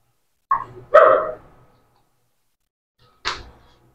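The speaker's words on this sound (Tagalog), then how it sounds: "Ingay yung aso." A dog barks three times nearby, two quick sharp barks followed by a single bark after a pause.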